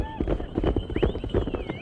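A racehorse at a horse race in mainland China clip-clops with a quick, uneven run of hoof beats close by, mixed with background voices and whistling tones.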